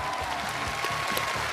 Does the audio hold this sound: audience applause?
yes